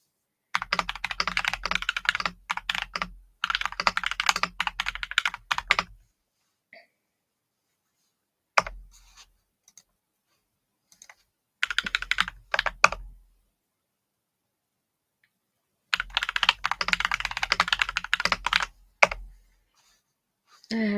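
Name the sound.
typing on a computer keyboard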